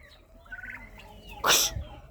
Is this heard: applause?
no